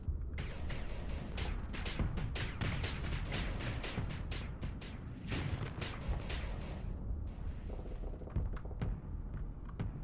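Rapid automatic weapon fire from spaceships in the space combat game Starsector, a dense barrage of overlapping booms and thuds with steady rumbling low end throughout, no talk.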